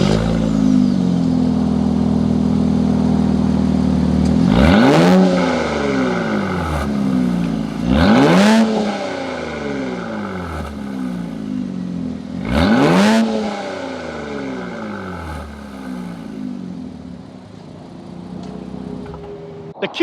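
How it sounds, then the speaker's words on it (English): A 2021 Infiniti Q50 Red Sport 400 engine revs sharply three times, each throaty exhaust blip rising and falling, with a steady idle rumble between them, close and loud. "Let's hear how nice that exhaust sounds."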